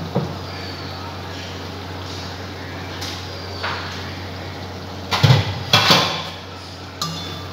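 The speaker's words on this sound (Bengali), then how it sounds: "ঢাকনাটা খুলে দেখাচ্ছি" A cooking-pot lid lifted off a pot of soya chicken, a couple of metallic clinks and scrapes near the end against steady kitchen background noise.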